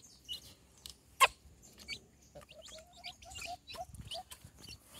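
Soft, high chirps from chicks scattered across a quiet background, with a few clucking sounds mixed in.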